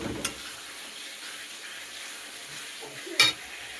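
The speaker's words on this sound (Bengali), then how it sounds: "আমাদের চিকেন কষা কষতে কষতে কষতে কষতে তো কষতে দেখুন কি আরে তেল বেরিয়েছে।" Chicken and potatoes being stir-fried in oil for kosha, a soft, low sizzle with a couple of sharp utensil clinks against the pan, no talking.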